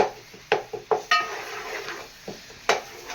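A spoon stirs ginger garlic paste in a metal pan, giving a handful of sharp scraping clinks at irregular intervals over a faint background sizzle.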